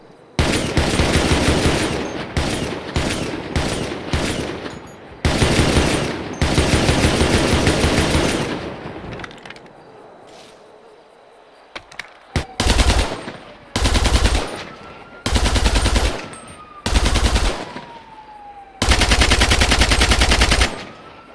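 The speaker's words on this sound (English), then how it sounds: "The gun sounds we have now are actually a lot softer than the gun sounds they were originally meant to be" Original beta gunfire from Grand Theft Auto V, loud rapid automatic bursts of shots in repeated volleys separated by brief pauses, with a quieter stretch of distant ambience midway before the heavy firing resumes.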